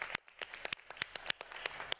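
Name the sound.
audience applause at a meeting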